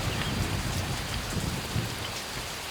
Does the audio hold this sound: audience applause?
no